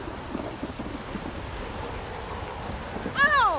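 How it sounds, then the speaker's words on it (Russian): Heavy rain pours steadily in a Witcher 3 game scene, a dense hiss with low rumbling thunder beneath it, ending in a sharp, swooping sound at the close. "дождь"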